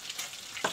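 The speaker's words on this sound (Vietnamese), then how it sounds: "cá nó đang rán đây" Fish frying in a pan for a spicy Vietnamese fish and banana-stem stew, a steady close sizzle with a sharper crackle burst near the end.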